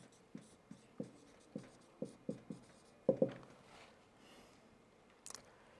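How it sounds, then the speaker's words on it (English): Writing on a board during a statistics lecture: a quiet series of short, irregular taps and strokes, with a couple of firmer clicks near the middle and no talking. "I'm just going to write the basic ideas here"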